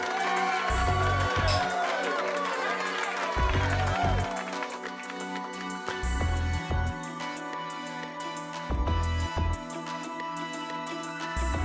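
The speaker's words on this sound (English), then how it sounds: "I'm gonna give you that little applause" Steady applause sound effect in a video game, crowd applause and cheering throughout, dense and fairly loud, with bursts of whoops and music-like tones layered over the clapping.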